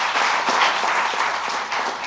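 A church congregation claps together during a Sunday celebration service, a dense, lively burst of applause with individual claps audible in the mix, loud and close throughout.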